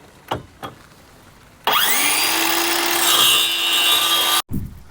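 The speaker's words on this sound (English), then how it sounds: "we cut that with a combination of circular saw and jigsaw" A power saw cuts through a wooden trunk-floor panel for a 1991 Honda Accord, two quick knocks followed by a loud, sustained whining cut of a few seconds that stops abruptly, with a brief clatter after.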